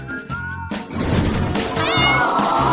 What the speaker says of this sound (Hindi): और ये बिल्ली तुम्हारे पास जाएगी